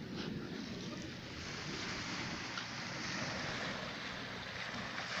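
Sea waves roll onto an island shore at night in a continuous wash of surf, heavy with wind noise against the microphone and no clear breaks.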